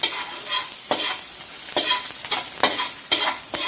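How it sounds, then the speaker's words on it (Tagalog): Garlic fries toward golden brown in oil for Filipino-style paella valenciana: a bright, continuous sizzle broken by regular scraping strokes of a spatula against the pan, close and fairly loud, with no voices. "Siyempre, unahin mo natin yung bawang. Hanggang mag-golden brown."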